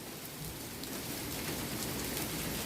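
Steady rain pours during a thunderstorm at the start of summer, a dense continuous hiss of drops striking surfaces, fairly loud and even throughout with no voices.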